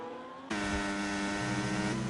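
A race car in a racing video game roars past, its engine note jumping in loudly and holding a steady high-pitched whine with a slight drop in pitch.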